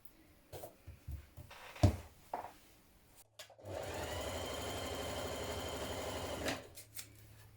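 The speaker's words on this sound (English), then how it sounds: "we're going to stitch it between these two notches here and here" After a few handling knocks and taps, a sewing machine stitches a pocket bag to fabric for a cocoon dress, a steady close whirring run of about three seconds that then stops.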